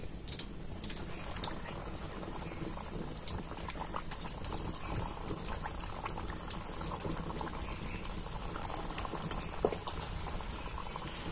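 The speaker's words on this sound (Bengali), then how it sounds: "আর এখন আমি নাস্তাগুলো তেলের মধ্যে দিয়ে দিচ্ছি।" Wheat flour snacks frying in medium hot oil in a pan, a steady dense sizzle and bubbling crackle that holds close and even throughout, with no talk.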